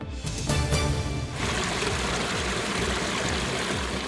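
Water pouring and gushing steadily from a leaking Yorkshire Water pipe, a loud continuous rushing stream with a brief louder splashing burst near the start.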